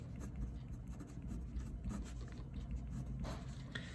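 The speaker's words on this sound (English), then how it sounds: "Let me even write that out." Faint, quiet scratching of a pen or marker writing out a calculus math problem, in short irregular strokes against a soft background hiss.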